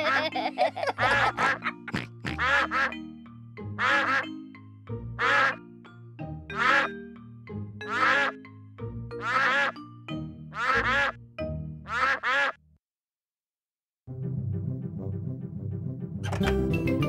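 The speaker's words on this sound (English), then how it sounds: "Look at all the hungry ducks." Repeated cartoon duck quacks from the Peppa Pig: Fun and Games video game sound in a steady run of loud bursts over a low music bed, pausing briefly before a busier musical passage resumes.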